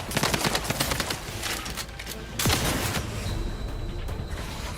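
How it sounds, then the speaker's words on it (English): Rapid bursts of gunfire in The Outer Worlds 2 video game, dense and loud throughout, with repeated sharp shots and a heavy blast midway under busy combat noise. "Come on, shoot it!"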